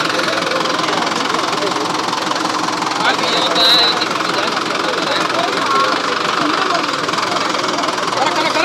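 A heavy 475 tractor engine roars and labors continuously at high load while stuck, loud and close, with a steady rumbling drone and voices faintly underneath.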